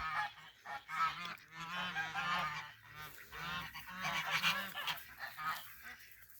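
A group of newly adopted geese honk loudly and repeatedly in a noisy, overlapping racket, nearby and continuous, with no talking.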